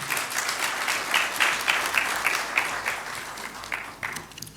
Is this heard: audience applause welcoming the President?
yes